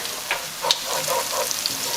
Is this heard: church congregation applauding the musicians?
no